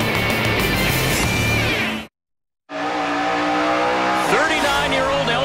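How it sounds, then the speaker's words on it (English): A NASCAR Pinty's Series stock car sliding backwards, loud engine roar and squealing tire skid close up, cut by a brief silence, then more engine noise and tire squeal. "Kevin Lacroix is thinking about that difference right now as he slides backwards"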